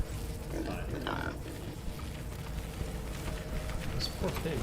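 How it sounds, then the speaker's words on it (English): Pigs in the video game Wasteland 3 give low, repeated grunts amid a busy, steady game soundscape, with speech mixed in. "Those poor pigs."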